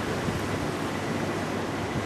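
Ocean waves washing steadily around a jetty at Southend, a small shack town on the coast, forming a dense, continuous roar of surf mixed with wind buffeting the microphone.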